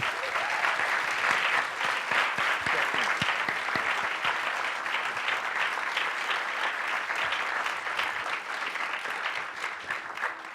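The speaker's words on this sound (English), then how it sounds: "A huge round of applause for the panel" Steady, dense applause from a large conference audience fills the room for the whole stretch, holding even in level throughout with no talk over it.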